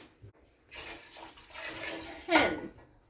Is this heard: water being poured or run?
yes